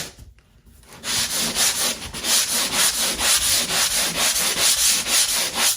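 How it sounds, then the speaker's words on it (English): Dried drywall joint compound being sanded along the edges of a patch, a steady rhythmic scratching rub in even back-and-forth strokes, close and loud after a brief quiet start, with no voices. "Just got to sand these edges down."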